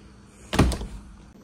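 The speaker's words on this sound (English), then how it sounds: "We have a patio door." A sliding patio door in a holiday apartment gives one short, solid thud as it rolls shut, close and fairly loud against a quiet room.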